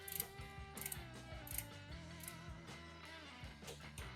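Torque wrench tightening valve cover bolts on a Kawasaki Vulcan 500 engine, a close, repeated ratcheting clicks in short bursts with mechanical clatter, no talk.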